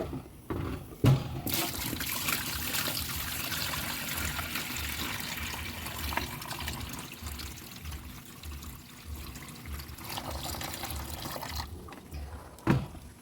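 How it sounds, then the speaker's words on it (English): Freshly picked farm produce rinsed in a container of water, a steady rushing trickle and pour that runs nearly the whole time, with a few splashes and clinks at the start and end. "I'm in the process of just rinsing them good now and getting the dirt off and the floaters out"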